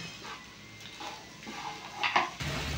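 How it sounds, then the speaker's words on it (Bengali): A spoon stirs semolina pulao with ghee in a pan, making soft scraping strokes and a few sharper metallic clinks against the pan near the end, fairly quiet and close, with no talking. "উপর থেকে আর একটু ঘি দিয়ে দেবো, ভালো করে নাড়িয়ে নেবো।"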